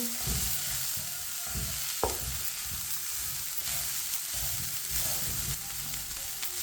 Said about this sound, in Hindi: अब इसे भी 1 मिनट के लिए पका लेते हैं।